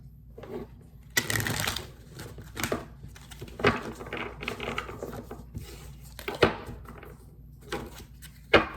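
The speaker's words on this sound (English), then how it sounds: "let me get the Celestial Tarot for the messages. So let me do 5 shuffles for this." Celestial Tarot cards being shuffled by hand, a run of soft riffling bursts and taps at irregular intervals, close and fairly quiet, with no voice.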